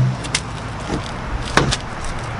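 The T-top latch on a 1979 Corvette clicks and knocks a few times while being worked, ending in a sharper, louder snap as it catches shut.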